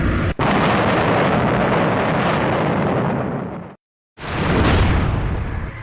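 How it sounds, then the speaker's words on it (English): Massive explosion ripping through the 17-mile Large Hadron Collider tunnel, a sustained roaring blast that fills the whole range, cuts briefly to silence, then erupts again in a second loud rumbling burst. "And then the LHC explodes."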